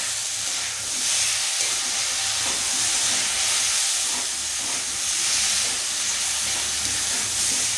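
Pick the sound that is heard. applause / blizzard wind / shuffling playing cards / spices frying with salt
spices frying with salt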